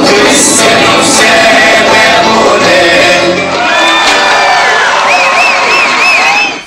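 A crowd at a Türk Hava Kurumu University ceremony cheers loudly, with whoops and shouts rising over a dense mass of voices that stays close and intense almost to the end.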